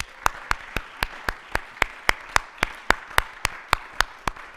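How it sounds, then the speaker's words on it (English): A single pair of hands claps in a steady rhythm, sharp and evenly spaced, with no voices. "Let's give them a round of applause."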